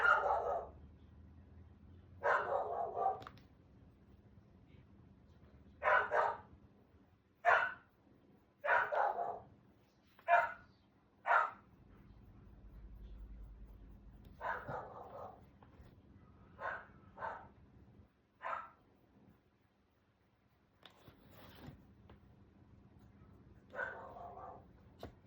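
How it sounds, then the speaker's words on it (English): A dog barks repeatedly at close range, in bursts of single and clustered barks separated by quiet gaps, over a low background hum. "They got my dog going."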